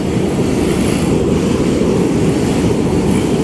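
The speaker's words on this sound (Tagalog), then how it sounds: "There's the LRT train." A light rail train rumbles past nearby, a loud continuous roar with wind buffeting the microphone.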